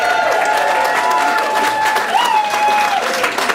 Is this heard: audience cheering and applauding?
yes